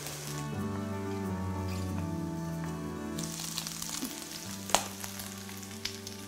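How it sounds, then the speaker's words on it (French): Lardons fry in a pan with a busy, crackling sizzle that grows louder partway through, over sustained tonal background music. "Pendant que les lardons sautent"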